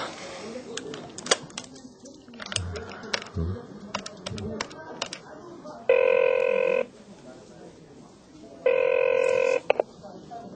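An outgoing phone call produces two long, loud electronic ringback tones separated by a pause, with keyboard clicks and a voice heard earlier in the scene.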